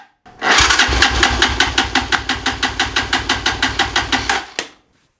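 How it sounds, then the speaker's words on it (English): A motorcycle engine cranks over on the starter during a compression test with the kill switch off and throttle wide open, a fast rhythmic chug of about twenty even pulses for four seconds, loud and close, then stops. "we're going to crank the engine with the kill switch off"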